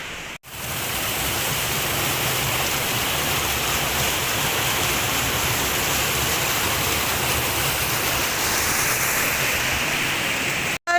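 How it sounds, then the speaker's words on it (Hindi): The waterfall and stream at Pari Taal near Nainital roar steadily and loudly as rushing water, close by and unbroken for the whole stretch, with no voices over it. "देखिए ये परिताल का वाटरफॉल है।"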